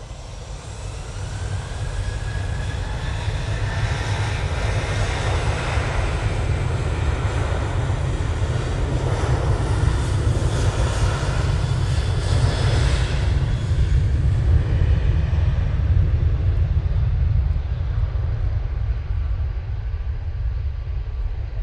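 A KLM airliner takes off at Manchester Airport, its engines a steady, loud, broad roar that builds slightly and holds throughout, with deep low rumble underneath and no voices.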